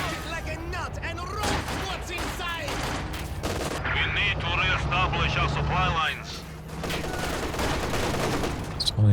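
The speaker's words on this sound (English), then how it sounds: "Still an MG in the building here." Machine gun fire from an MG in a building during a Company of Heroes 2 battle, with rapid bursts and scattered gunshots rattling close and loud under a commentator's continuous talk.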